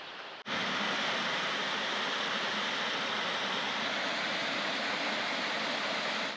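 The River Swale rushes near a waterfall in Swaledale, a loud, continuous broadband roar of flowing water that cuts in abruptly and holds steady throughout, with no voices.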